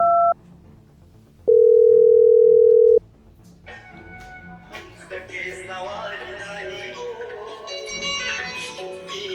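A short tone, then a steady telephone dial tone for about two seconds, followed by muffled voices and background music.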